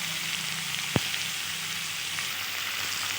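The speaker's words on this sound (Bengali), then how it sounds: "এবার আরও কিছুক্ষণ ভালোভাবে নেড়ে চেড়ে আমি ভেজে নেব।" Chopped potatoes and onions frying with salt and turmeric while being stirred, a soft even hiss of oil with one sharp clink of a utensil against the pan, close and quiet, no voices.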